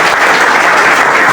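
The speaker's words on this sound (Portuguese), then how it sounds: "Uma salva de palmas para Jesus." A church congregation at an installation service in Aratuípe breaks into loud, sustained applause, a thick, even roar of many clapping hands close by, with no talking over it.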